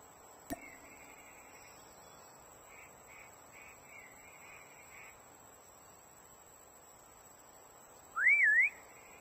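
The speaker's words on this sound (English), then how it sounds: "Next whistle in 10 seconds." Late in a quiet stretch of a Call of Duty Mobile Prop Hunt match, one short wavering whistle rings out loud and close, after a sharp click and some faint quacking game sounds earlier.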